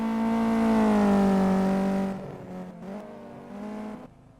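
A race car in the Simraceway racing game holds a loud, high engine whine that drops in pitch as the driver brakes into a lock-up, then settles into a lower, uneven drone with faint scrubbing.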